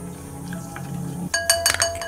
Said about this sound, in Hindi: अब हम दही और सूजी को अच्छे से मिक्स कर लेंगे